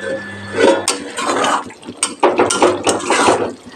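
A metal lid clatters onto a pan of simmering fish curry, with a few close clinks and scrapes as it settles, brief and fairly loud.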